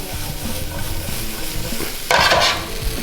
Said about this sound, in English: I'm gonna add my parsley. I'm gonna add some of my noodles. Give that a nice toss.